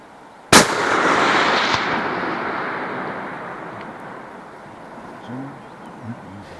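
A single loud rifle shot during a buffalo hunt in the South African bush, a sharp crack followed by a long rumbling echo that fades over several seconds, with faint outdoor sounds afterward.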